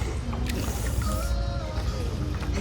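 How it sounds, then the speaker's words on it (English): A child paddles a surfboard across a pool, with soft, steady splashing and gurgling water close by. "teaching Story to do a bit of paddling in the pool"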